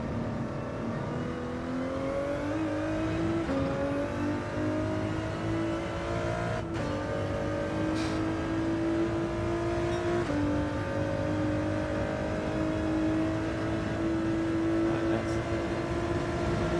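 A race car engine in Gran Turismo 7 drones steadily at high revs, its pitch climbing through gears with brief dips at each shift, loud and continuous throughout.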